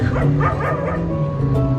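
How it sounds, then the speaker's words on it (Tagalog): A dog barks in a quick, repeated series of yappy barks over a steady background hum, fairly close and loud. "maingay yung aso"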